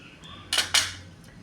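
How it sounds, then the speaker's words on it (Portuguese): Lid being set onto a cooking pot while cooking ribs, two quick close metallic clinks about a quarter second apart, with quiet room sound before and after. "Fechar aqui a panela."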